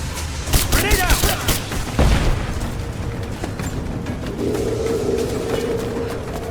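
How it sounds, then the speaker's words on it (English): Grenade explosion in Rise of the Tomb Raider gameplay, a loud deep boom followed by rumbling gunfire and battle noise, with voices talking over the combat. "Grenade out."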